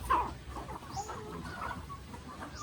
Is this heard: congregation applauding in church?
no